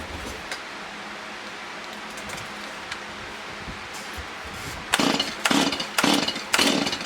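A Stihl MS170/MS180 chainsaw with a newly replaced rear handle is pull-started: a few quiet rustles, then four loud, rapid rasping cord pulls in quick succession near the end, without the engine catching.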